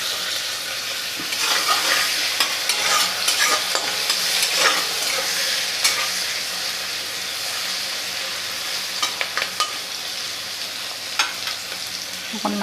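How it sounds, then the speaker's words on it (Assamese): Tomatoes fry with onion and turmeric in a pan, giving a steady close sizzle broken by repeated scraping stirs. "এতিয়া মই বিলাহীখিনি অকণমান ভাজি ল'ম।"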